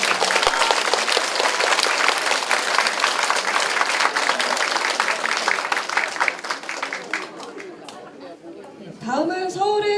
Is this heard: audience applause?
yes